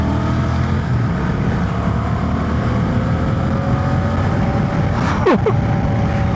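Honda Transalp 750 motorcycle engine pulling hard on an open stretch after traffic, a steady loud drone with wind rush throughout and a rising whine near the end as it accelerates.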